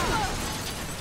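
Explosions during action gameplay in Uncharted 2, a loud, dense burst of blast noise and debris filling the whole short moment without let-up.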